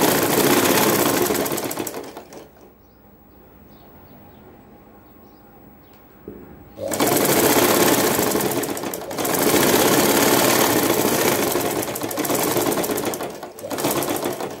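A sewing machine stitches a band collar at the neckline of a garment in loud, sustained runs of dense whirring, broken by a quieter pause and a brief stop near the end.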